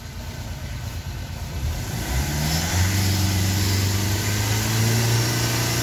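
A Hyundai i20 car engine, serviced for black smoke and low pickup with injector work, revs up as the accelerator is pressed; a close, loud engine rises from idle into a sustained higher hum that holds steady.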